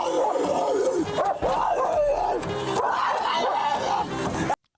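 A dog barking, yipping and whimpering up close in excited, wavering bursts, mixed with a person's voice, before cutting off abruptly near the end.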